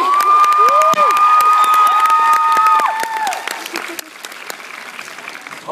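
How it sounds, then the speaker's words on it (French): Loud theatre applause and cheering greet an actor at a stage performance of Les Nouvelles Aventures d'Aladin at Docks 76 in Rouen, with whistles and shouting over the clapping before it fades into scattered claps. "merci d'applaudir très fort, William Le Blid."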